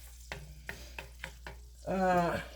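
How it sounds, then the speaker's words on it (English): Food sautéing in a pan with butter and ginger on a stovetop, a row of quiet utensil taps and scrapes followed by a short, louder surge of sizzling and stirring. "so just let this saute a little bit."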